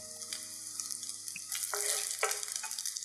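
Dried shrimp and salted pork are stir-fried in a wok over medium heat, producing a steady close-up sizzle with bursts of crackling and occasional scraping stirs, with no talking.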